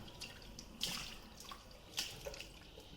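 Tap water runs softly into a sink during face washing at a morning skincare routine, a faint steady trickle with a few brighter splashes as hands meet the stream.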